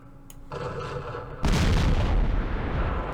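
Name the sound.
artillery fire in the video game Campaign Series Vietnam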